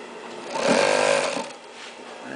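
A Brother DT6B927-7 sewing machine runs in a short burst, a rapid rhythmic whir that swells and fades within a couple of seconds, close by.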